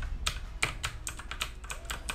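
Rapid keystrokes clatter on a computer keyboard, an irregular run of sharp, close clicks and taps that continues for a couple of seconds with no talking.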